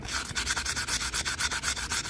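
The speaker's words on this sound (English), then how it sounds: "taking a little sanding block" Rapid, rhythmic rasping strokes of a sanding block scrubbing corrosion off the metal impeller shaft of a Mercury 9.9 outboard motor, close and steady, about seven strokes per second.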